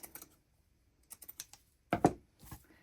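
Scissors snip through a lace doily to cut it in half, giving a few small, crisp clicks followed by a louder pair of sharp cuts and a softer final snip, close and quiet, with no voice.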